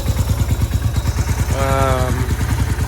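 A 1994 Yamaha motorcycle engine, freshly valve-adjusted, idles up close with a steady, loud, even rhythmic thrum and no tapping, holding constant throughout.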